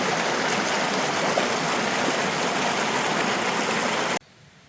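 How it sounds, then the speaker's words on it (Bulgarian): Small mountain stream near a hut in the Rila mountains, loud steady rushing and babbling water close by that cuts off abruptly near the end, leaving faint background. "Намерихме една рекичка"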